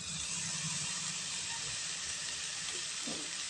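Chopped jackfruit dropped into hot oil with an onion tempering sizzles with a steady, bright hiss that holds evenly throughout, with faint low clatters beneath.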